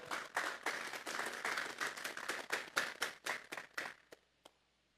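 A church congregation at a Sunday service claps steadily for about four seconds as an offering of applause, a dense crowd sound that thins into a few last claps and stops.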